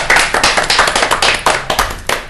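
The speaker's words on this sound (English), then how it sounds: "And while we're clapping, let's just take a second to note that it's Claire's last meeting" Brief applause from a small group at a library board meeting, a quick burst of overlapping hand claps lasting a couple of seconds with no voices.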